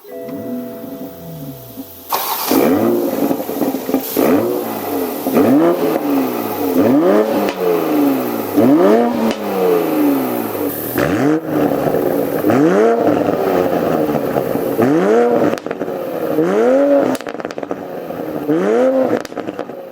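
A 2020 Toyota GR Supra 3.0 starts up after a brief whine, then its engine is revved about ten times in a steady rhythm, each blip rising and falling sharply, loud and close, with no voices.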